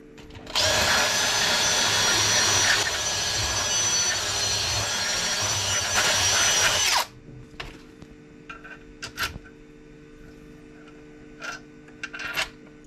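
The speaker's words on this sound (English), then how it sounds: "So that means I got to drill this out" Power drill boring out an engine mount stud hole on a K20 supercharged EF wagon, a loud steady whirring grind for several seconds that cuts off abruptly, followed by quiet workshop clinks and brief scrapes.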